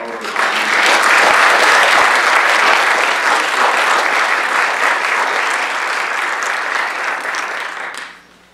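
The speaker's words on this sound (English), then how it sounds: "can we just get one more round of applause for all of us?" Forum audience applause swells quickly into a full, steady wash of clapping from a large crowd, holding for several seconds before tapering off and stopping.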